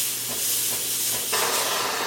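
Steam wand of a Breville Barista Pro espresso machine purging, a loud continuous broadband hiss close by that brightens and surges partway through, with no talking.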